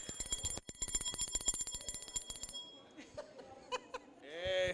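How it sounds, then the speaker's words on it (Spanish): A rapid, regular bell-like ringing pulses for a couple of seconds at a church service, then stops, followed by scattered tones and brief voices. "puede sonar la campana"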